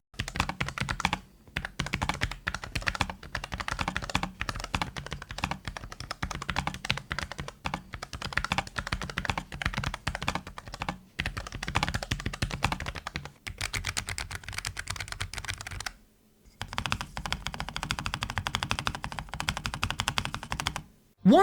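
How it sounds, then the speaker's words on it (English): Logitech G515 Lightspeed wireless TKL keyboard with tactile switches being typed on steadily, a dense close-up clatter of keystrokes with a few brief pauses and no speech. "here is a sound test of the keyboard with those tactile switches."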